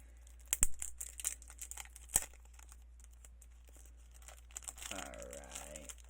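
Plastic packaging crinkling while a case and its contents are unboxed, heard as sharp close crackles and tearing bursts at irregular moments, with a brief voice toward the end.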